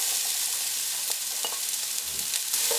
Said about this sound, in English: Mix it and cook it till onion becomes soft and change the color.